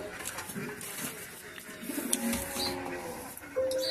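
A pair of Punjabi Malbai pigeons, a male and a female, coo softly within a busy, noisy background. The low cooing is faint and continuous.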